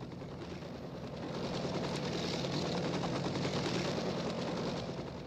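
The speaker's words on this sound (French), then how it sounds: "Un hélicoptère qui se pose sur l'aéroport de Waterloo." A helicopter comes in to land at Waterloo airport, its dense, rapid rotor chop and engine roar swelling into a steady loud wash, with no voices.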